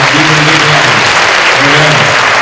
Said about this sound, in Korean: 우리 뜨거운 박수로 Can you recognize him one more time?